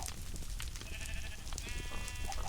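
Sheep in the video game Minecraft bleat several times, short nasal wavering calls rising over a low background, fairly close with no talking.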